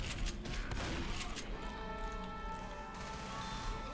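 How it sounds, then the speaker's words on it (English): Gunfire in the zombie shooter game Left 4 Dead, rapid shots in a dense cluster at the start, then a softer mechanical ringing tail; fairly faint overall. "It seems like all this gunfire would attract."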